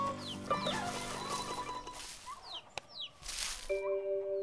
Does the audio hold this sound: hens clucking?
yes